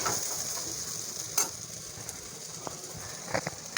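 Dry potato sabzi sizzling as it fries in a pan, a steady soft crackle with a few faint scraping stirs, fairly quiet and without speech.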